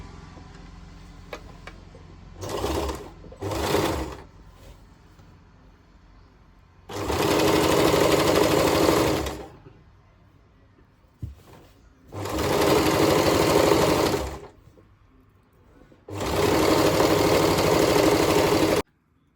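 A sewing machine stitches two pieces of a churidar pant together in separate runs: two short bursts first, then three longer steady whirring stretches with quiet pauses between them.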